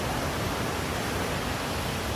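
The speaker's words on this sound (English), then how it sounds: "I was just on my way home and I come across this waterfall." A waterfall pours in a steady, dense broadband hiss, constant and fairly close with no pauses or voices.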